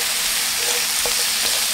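Bacon, sausages and fish cake frying in cooking oil in a pan, a steady broadband sizzle with a few faint pops and crackles, no talking.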